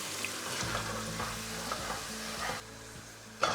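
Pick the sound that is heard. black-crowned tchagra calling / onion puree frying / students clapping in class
onion puree frying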